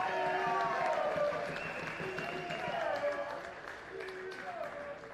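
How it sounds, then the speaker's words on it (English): A football crowd at an Australia Cup 2022 Round Three match applauds a substituted player, a broad distant roar of clapping and cheering that swells and fades under a commentator's voice. "being applauded by all of the crowd here"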